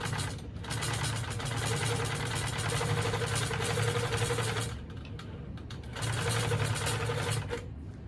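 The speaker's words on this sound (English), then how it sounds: "I'm going to turn my channel lock on again to make sure that I'm stitching this straight edge across here" A Handi Quilter longarm quilting machine stitches a straight edge across a tote bag, a steady mechanical whir in two long runs split by a brief quieter pause.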